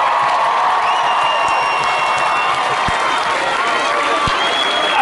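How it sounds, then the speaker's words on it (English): A crowd at a lively evening event applauds and cheers loudly for a management team. The clapping is dense and continuous, with whoops and shouted cheers rising above it throughout. "the management team deserve an absolute biggest round of applause"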